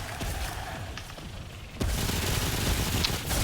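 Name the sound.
machine gun pistol gunfire in video game Remnant: From the Ashes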